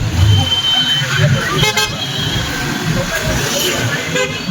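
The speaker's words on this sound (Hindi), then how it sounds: "बहुत ट्रैफिक भाई बहुत ट्रैफिक" Heavy Sunday traffic at a Tiruppur market, a constant roar of engines and road noise with short vehicle horn toots breaking through, and a voice talking over it.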